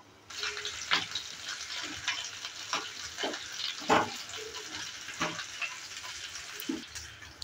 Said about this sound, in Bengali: আর আলুটাও ভাজা হয়ে গেছে